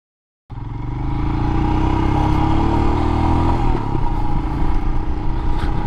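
Royal Enfield Himalayan motorcycle on a test ride, its engine starting abruptly after a brief silence and then running loud and steady with a continuous rumbling drone and slight revving, no voices.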